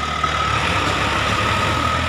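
A Mahindra tractor engine labours on a bad muddy road, a loud, steady low diesel drone with a constant rumbling hum and no break or speech.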